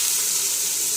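Chopped onion sizzles in hot oil with mustard seeds and cumin for a hotel-style kaju masala, a steady, close, hissing sizzle that fills the moment with no voices.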